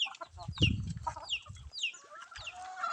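Chickens cluck and squawk nearby in a quick, overlapping chatter, with some low rustling underneath.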